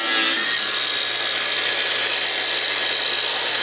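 A power tool cuts out a welded metal support bar inside a Citroën AZU, a loud, steady, high-pitched grinding whine held continuously and close up.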